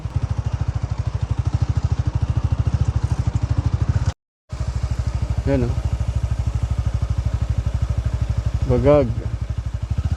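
Motorcycle engine riding over hard dirt ground near a campsite in Rodriguez, Rizal, a steady close pulsing drone that drops out briefly, with someone talking over it.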